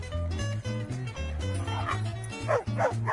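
Several dogs bark and yip at a busy urban dog run, close and loud, in quick overlapping bursts with a few higher whimpering yelps toward the end.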